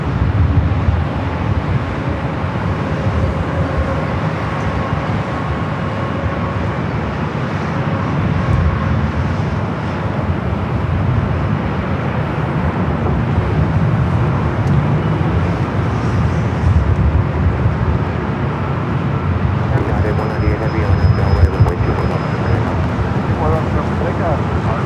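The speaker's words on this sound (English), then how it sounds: "You can hear that United Dreamliner up next for takeoff." A United Airlines Dreamliner jet airliner taking off at LAX, a steady broad roar heard from a distance with wind buffeting the microphone, under ongoing talk.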